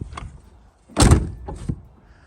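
A Land Rover Freelander 1 rear door, just repaired after failing to open, unlatches and swings open with a solid clunk, followed by a softer mechanical click, close up in a quiet setting.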